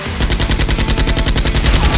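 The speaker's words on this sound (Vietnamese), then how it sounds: "Súng không có tác dụng gì với hắn ư?" Rapid automatic gunfire in the video game Marvel's Spider-Man 2, a loud, evenly spaced burst of shots repeating without pause for about two seconds, with no talk over it.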